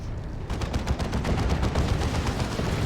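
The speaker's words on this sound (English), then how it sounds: "That was a incendiary shell from the artillery spotter fella." Incendiary artillery shell fire in the real-time strategy battle game Dawn of War 2, heard as dense, continuous rapid bursts of gunfire and explosions, loud and close, with no talk.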